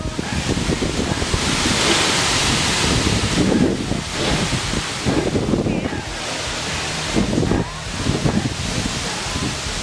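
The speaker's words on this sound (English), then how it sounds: "Dang, wind is getting violent." Strong wind blasts across the microphone outdoors, a loud, continuous roaring rush that swells and eases in gusts for the whole stretch, with no voices.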